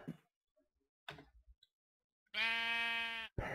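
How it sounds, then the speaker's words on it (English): Minecraft sheep bleat in a single sustained, quavering call that rises loud and clear after a few soft clicks and short taps, standing alone without speech over it. "shut up sheep"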